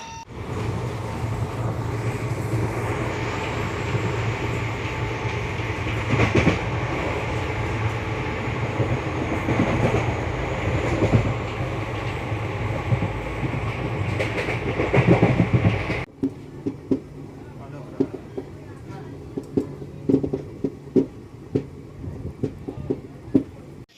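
The Kaveri Express passenger train runs on the Chennai to Mysuru line with a loud, steady rumble and rattle of carriages that drops to a quieter hum with scattered wheel clicks partway through.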